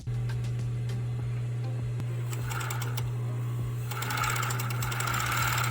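A sewing machine joins fabric scrap pieces for a head scarf, humming steadily close by with a low motor drone and ticking needle strokes that grow busier toward the end.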